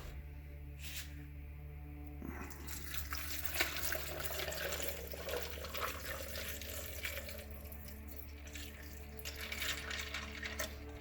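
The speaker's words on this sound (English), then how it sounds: "Actually, pour some water in there first." Water poured into a homemade rock tumbler barrel, a steady close splashing and trickling stream over a low background hum, with no talk.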